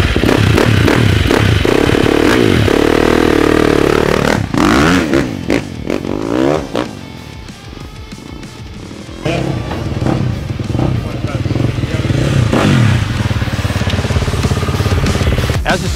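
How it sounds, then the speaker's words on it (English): Dirt bike engine running loudly up close, revving and holding a steady roar, dipping midway with some clatter before rising again, with speech over parts of it. "Bike running perfect, ready to go."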